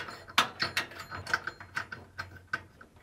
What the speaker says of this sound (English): tighten the screw using a 5mm Allen bit and torque it to 7 foot-pounds or 10 newton meters